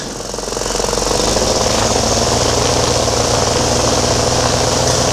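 Paramotor engine on a powered paraglider starting low, then swelling within a second to a loud, steady, close-up drone with strong vibration that holds to the end.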